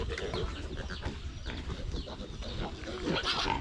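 A pig grunts and snorts in a remote hill village, mixed into a busy, noisy outdoor scene, with a voice now and then in the background.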